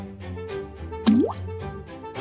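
A Toothless dragon toy with soft wings goes into water with a single distinct plop and a short gurgle in the middle. Faint tonal background music plays throughout.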